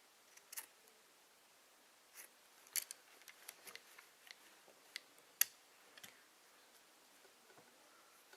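Scissors snipping through the end of a paracord lanyard at an angle, a quiet close series of sharp clicks and snips spread unevenly over several seconds, with no talking.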